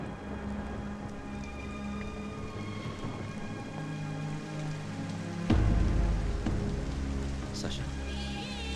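Rain falls steadily on surfaces in a dense, even hiss, joined at about the midpoint by a sudden deep low rumble that lingers under the downpour, likely within a film soundtrack.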